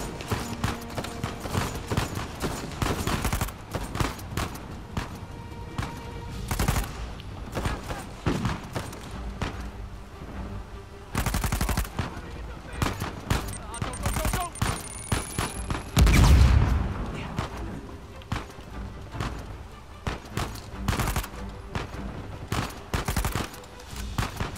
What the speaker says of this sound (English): Where's the shooting going on?